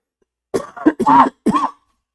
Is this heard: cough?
yes